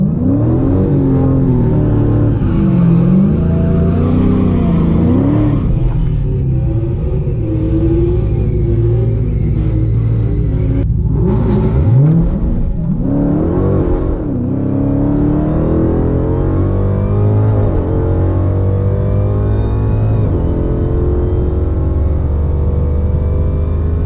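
A Dodge Hellcat makes a hard quarter-mile acceleration run with traction control off, its engine roaring loudly and continuously from inside the car while pitch climbs through the gears with brief drops at each shift.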